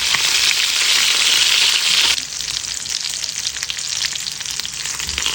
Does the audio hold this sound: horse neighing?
no